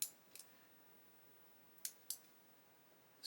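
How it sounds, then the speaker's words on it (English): Small plastic parts for a 1:8 Ferrari 330 P4 model kit being snipped off the sprue with cutters, a few sharp isolated clicks close by in an otherwise quiet room. "with these here, we're going to cut these off"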